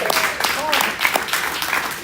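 Crowd applauding Until Freedom at a Vote For Breonna town hall and rally, a brief burst of dense clapping and cheers with voices mixed in.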